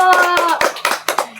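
A class of primary-school children claps their hands together in a music lesson, about four sharp claps in steady rhythm, close and fairly loud, with a sustained voice sounding over them.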